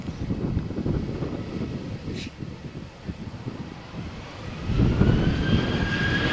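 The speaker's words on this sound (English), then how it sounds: "Okay, Air Europe flight is clear for takeoff" An Air Europe airliner takes off from runway 13 at Malaga Airport on a stormy morning, its engines producing a steady roar mixed with gusty wind buffeting the microphone, the rumble building louder toward the end.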